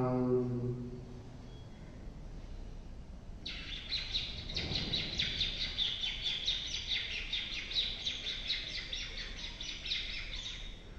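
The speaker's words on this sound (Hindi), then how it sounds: "पक्षियों की चहचहाट," Many birds chirp and twitter in a bright, steady chorus that rises suddenly after a few seconds and continues without pause, fairly loud and close, with a low hum fading out at the start.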